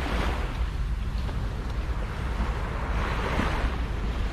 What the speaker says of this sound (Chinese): 这海浪真是太棒了